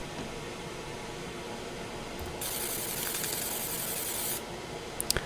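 A laser marking machine makes a single marking pass on a part, a bright steady hiss that starts suddenly, holds for about two seconds and cuts off, over a faint background hum, followed by a few small clicks.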